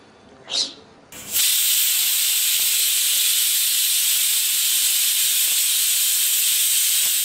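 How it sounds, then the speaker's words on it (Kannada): A pressure cooker cooking country chicken curry lets off a loud, sustained hiss of escaping steam that keeps going steadily after a brief rising squeal, close up and with no talking. "ಮೂರು ವಿಷಲ್ ಆಗಿದೆ."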